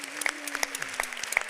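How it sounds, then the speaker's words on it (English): Thin, scattered applause from a poetry and memoir session audience, a handful of distinct claps at uneven intervals, fairly faint and brief. "Let's have a round of applause for our panelists."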